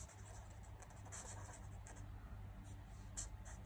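Marker or chalk writing on a board during a Class 9 maths lesson on matrix inverse, a steady faint scratching stroke pattern continuing over a low background hum with no talking.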